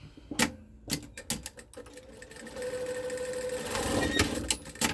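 A sewing machine starts with a few sharp clacks, then runs into a steady, rapid mechanical whirr of stitching, close by.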